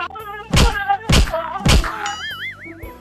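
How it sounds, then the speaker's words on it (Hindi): A comedy sketch sound effect of whip lashes hitting a man: three loud whacks land in quick, even succession, followed by a wobbling cartoonish tone. "इसको 5 कोड़े मारो"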